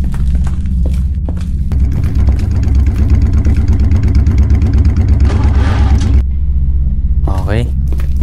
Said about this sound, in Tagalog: Tayo muna natin yung motor.